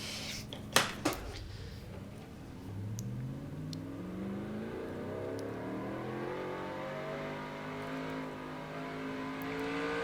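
A NASCAR stock car engine in NASCAR Racing 2003 on a flat road course, with a couple of sharp knocks early on, then a steady revving drone whose rising and falling pitch sweeps up as the car spins out.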